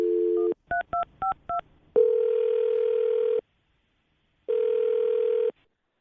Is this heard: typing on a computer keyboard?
no